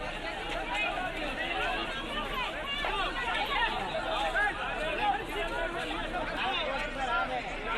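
Dense crowd chatter fills a packed train station platform, a steady close wash of many overlapping voices with no single speaker standing out.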